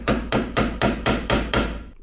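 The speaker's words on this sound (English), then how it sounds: "Now we're just going to hammer the edges around the edge as they have been hammered up to stop this from" A hammer strikes the metal edges on a classic Austin Mini ball joint in a workshop, seven sharp, ringing blows spaced evenly about a quarter second apart, loud and close with no talk.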